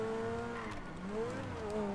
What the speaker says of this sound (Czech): To je zvuk, ježiš